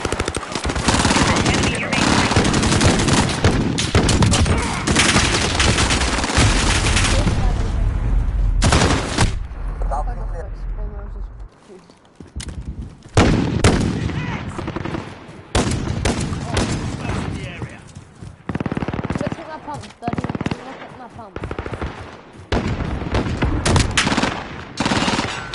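Sustained machine-gun and rifle fire in a Call of Duty Modern Warfare multiplayer match, long loud bursts with brief lulls, and in-game voices calling out over the shooting.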